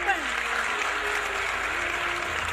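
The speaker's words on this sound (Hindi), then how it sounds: "एक बार जोरदार तालियां।" A large crowd at a public project-inauguration event in Dehradun, Uttarakhand applauds in a dense, continuous wash of clapping that holds steady and loud throughout.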